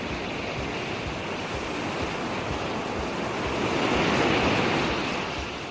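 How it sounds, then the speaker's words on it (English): Gentle ocean waves wash steadily in a virtual metaverse world, a continuous broadband surf with a slow swell that peaks near the end, heard alone without talk. "And the gently undulating waves"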